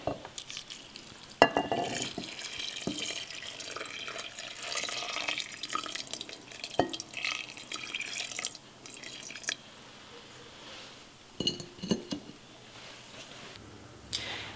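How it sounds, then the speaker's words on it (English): Boiled water poured over rice in a pot for maqlouba, a trickling, splashing flow in bursts with clanks and knocks of cookware between pours, close and moderately loud. "I boiled the water. Now I'm going to add it over the rice."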